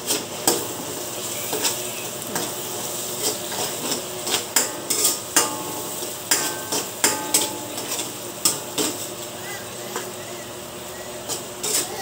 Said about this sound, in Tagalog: Haluan na natin haluin.